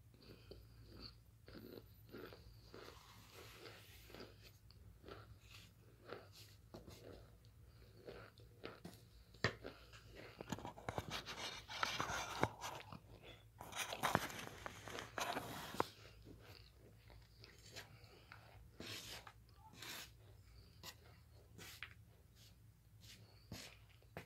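Someone chews a crunchy banana-flavored treat baked from Jell-O mix in a can, with close, repeated crisp bites and crunches, a louder burst in the middle, and soft breathing between them.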